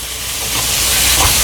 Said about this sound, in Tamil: இப்படி வதங்கட்டும்.